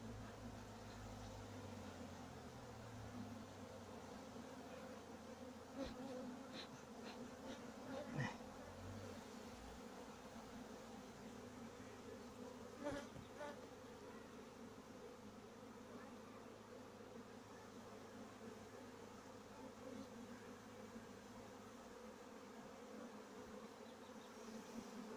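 Honeybees swarm around an open hive during a July honey harvest, making a continuous low, dense buzz with faint handling clicks and knocks scattered through it.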